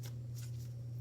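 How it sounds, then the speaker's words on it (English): A deck of cards is shuffled for a card reading, giving faint, brief riffling bursts over a steady low electrical hum. "I'm going to shuffle while I talk."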